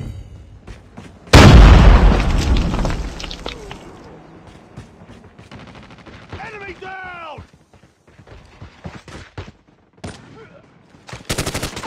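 A heavy blast of gunfire and a booming grenade explosion in the mobile shooter Call of Duty Mobile, loud and sudden, followed by scattered shots and clicks, with voices calling out over the action.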